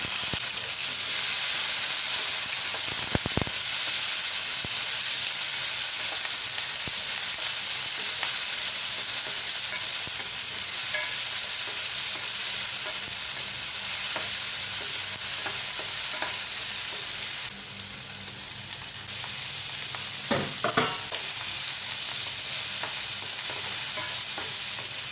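Onion and tomato sautéing in a pan for a chicken hearts dish: a continuous close sizzle with stirring and occasional clacks of a utensil against the pan, with no talking throughout.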